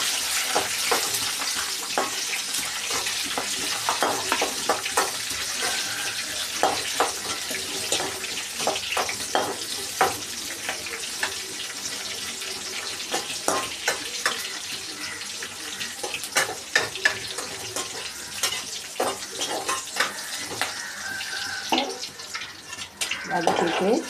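Green chillies sauté in a pan for an eggplant thuvaiyal, a steady, loud sizzle and crackle of frying that runs unbroken, with stirring scrapes through it.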